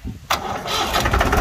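A Mahindra 265 DI tractor with a 7 ft rotavator cranking and catching, a sudden burst as the engine fires, then a rough, loud running rumble close by.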